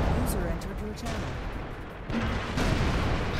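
An auto cannon fires in World of Tanks in several loud, booming bursts with rumbling gaps between them, mixed under voices talking.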